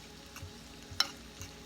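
Polk sallet greens frying with regular bacon in a pan, stirred with a faint, low sizzle and a few soft scraping strokes, one slightly sharper scrape standing out. No talking.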